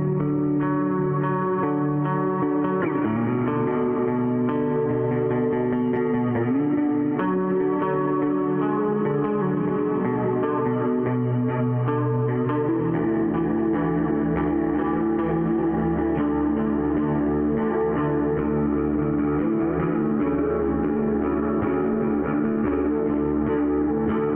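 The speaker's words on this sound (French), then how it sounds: "Pourquoi une reverb aussi pétée en rock ?" Bass guitar played through a heavy, washed-out reverb pedal on a six-pedal rock pedalboard. Sustained notes swim in thick ambient echo and grit for the full stretch, with the texture shifting midway as new notes ring out. No voices are heard.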